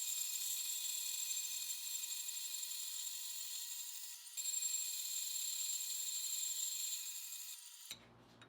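A steel bar is drilled to take a 3/8 bolt for the hinge of crucible lifting tongs, a steady, high whining drone that holds for several seconds and then cuts off abruptly near the end.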